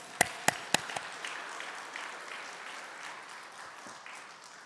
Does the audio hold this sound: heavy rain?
no